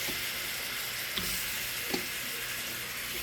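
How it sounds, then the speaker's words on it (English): Meat searing in a little hot oil in a pan gives a steady, close sizzle with a couple of brief clinks or stirs, and no talking. "we're just gonna sear these two in that little oil until they all the way done"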